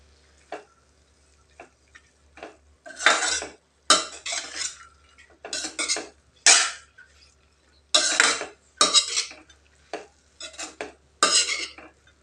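Drumstick leaf poriyal with dal stirred in a pan, a series of close, irregular scraping strokes and metallic clinks of a spoon against the pan, separated by short quiet gaps.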